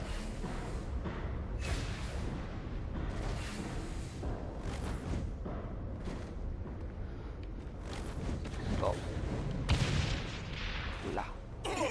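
Weapon fire in the Saints Row video game, repeated muffled shots and booms spread across the scene, fairly faint and steady against a busy background, with a voice speaking now and then.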